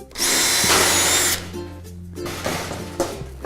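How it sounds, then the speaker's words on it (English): A power drill bites through thin shed sheet metal, a loud high whine for over a second that then drops into a lower, fading run-down, with lighter drilling bursts and handling sounds following. "so we're going to use the channel as a guide for drilling our holes."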